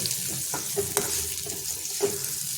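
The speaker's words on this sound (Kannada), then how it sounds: "ಇದನ್ನು ಚೆನ್ನಾಗಿ ಒಂದು ಸುತ್ತು ಎಲ್ಲ ಹೊಂದ್ಕೊಳ್ಳೋ ಹಾಗೆ ಹುರಿಬೇಕು" Onions frying and being stirred in a pan for Dharwad avalakki, a soft close sizzle with a few light scraping strokes of the spatula.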